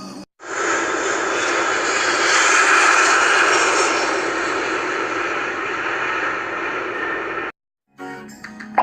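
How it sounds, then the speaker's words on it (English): Steady, loud roar of an airplane engine that holds for about seven seconds, then cuts off abruptly, followed by a brief fragment of sound. "5 airplanes."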